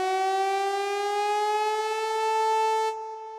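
A siren-like synth patch on a Nord Stage 3 Compact 73 keyboard gives a steady, loud, rising tone that slowly glides upward for about three seconds, then drops off abruptly into a softer held note at the end.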